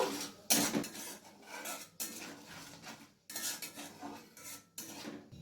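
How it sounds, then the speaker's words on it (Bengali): Spices being stirred in a pan: a utensil scrapes turmeric and Kashmiri chili powder around the metal surface in repeated close strokes, with sharper clinks between bursts, and no talk. "এরপর ভালো করে মিশিয়ে নেব।"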